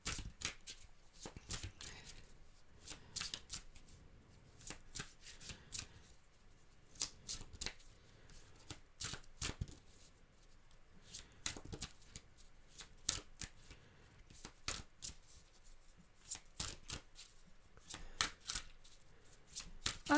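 Oracle cards are shuffled by hand in repeated quick riffling bursts, crisp and close, with short pauses between each shuffle over twenty seconds and no talk.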